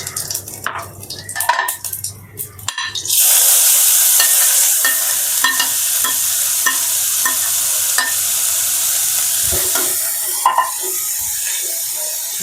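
Sliced onions and whole cumin seeds drop into hot oil and burst into a loud, steady sizzle, with rhythmic spatula scrapes and taps against the pan as the mixture is stirred.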